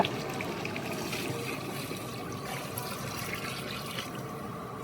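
Water poured into a boiling village-style country chicken curry in a traditional Tamil kitchen, a steady continuous splashing and gurgling pour, close and fairly even throughout with no talking.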